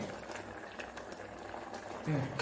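A pot of Kerala-style pulinkari, a tamarind curry, bubbles at a full boil, giving a soft continuous burble that swells slightly toward the end.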